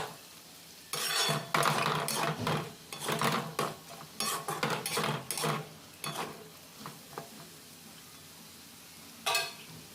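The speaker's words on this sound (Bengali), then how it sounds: "এইভাবে নাড়াচাড়া করতে করতে আলু ভাজাটা তৈরি হয়ে যাবে" Potatoes for Bengali-style aloo bhaja are stirred in a frying pan, giving loud scraping and clattering bursts of spoon against metal over a steady sizzle, then tapering to scattered light knocks and one final scrape.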